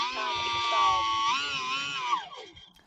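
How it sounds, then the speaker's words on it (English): E-Flite UMX Timber X RC airplane motor screaming, a high, harmonic-rich whine that holds steady, wavers in pitch, then cuts off and fades out near the end, loud and close. "I don't like the screaming noise of this RC airplane"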